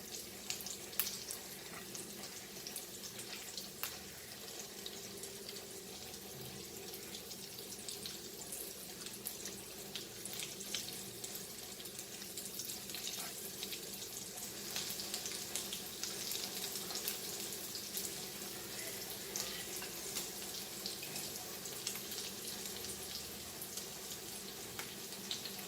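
Goan sausages frying in rava in a pan, a soft steady hiss and crackle that runs the whole time at low level with small irregular pops, and no voices.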